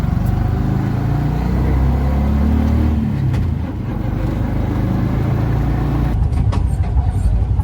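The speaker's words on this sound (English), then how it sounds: "we took a bumpy squish tuk-tuk along the main road with our mate Deepak back to the hotel" A tuk-tuk rattles along a bumpy main road in Goa, its small engine chugging loud and close over road rumble and jolts. The ride continues without any talk.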